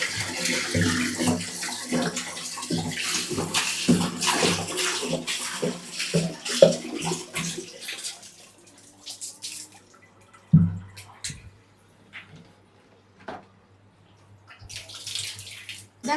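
Oily water pours steadily from a tap for several seconds, then thins to intermittent splashes and drips, with a few brief bursts of running water near the end.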